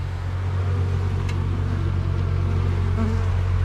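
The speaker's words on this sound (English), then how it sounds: "I got a bunch of bees hiding up in the framing up there." A low, steady droning hum of bees hiding in building framing, continuous and fairly close, with a faint higher buzz passing by.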